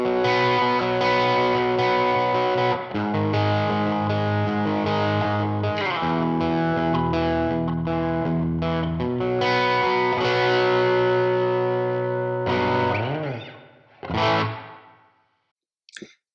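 Electric guitar on the bridge pickup with a little drive through a Line 6 Helix and a Princeton amp impulse response, sustained chords and ringing notes for a long stretch before fading to a final short strum, close and full, no talking.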